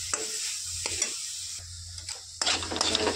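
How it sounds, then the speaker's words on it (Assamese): A coconut and jaggery mixture is stirred in a hot pan with a spatula, scraping strokes and sizzling heard up close in an uneven rhythm over a steady low hum, with no talking. "মই এনেকৈ ভালদৰে লৰাই মিলাই ল'ম। এনেকৈ লৰাই আছোঁ।"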